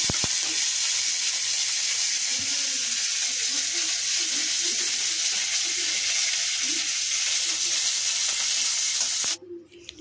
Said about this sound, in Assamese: নৰসিংহ পাতটো অলপ ভাজি ল'ম মচমচাকৈ।